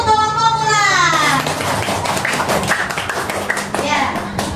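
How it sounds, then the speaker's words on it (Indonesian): Schoolchildren in a grade 5 classroom clap for a classmates' group, a scattered burst of hand claps over a teacher's voice and children's chatter, close and fairly loud. "Sekarang tepuk tangan untuk kelompok ular."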